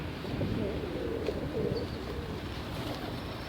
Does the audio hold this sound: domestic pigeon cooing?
yes